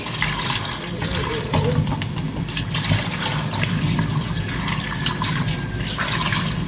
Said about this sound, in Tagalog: Mas lalagyan na natin ng tubig yan.